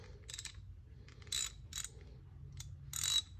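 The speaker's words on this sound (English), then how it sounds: "Ratchet, that works." A 3/8-inch ratchet wrench from a yard sale haul clicks in several short bursts of fine, rapid ratcheting, fairly close and moderately loud, with brief pauses between turns and no voices.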